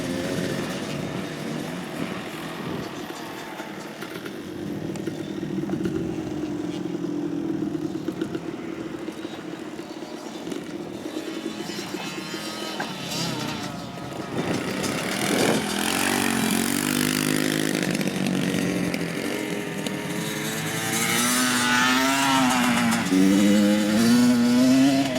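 Motorcycles ridden on a dirt track on a first outing, engines droning steadily and rising into louder revving, whining acceleration toward the end, fairly close and continuous without talk.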